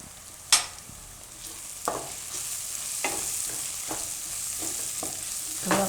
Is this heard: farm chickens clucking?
no